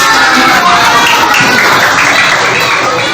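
A classroom of pupils at a primary school applauds together during a lesson, a loud, dense and continuous wash of clapping with crowd murmur mixed in.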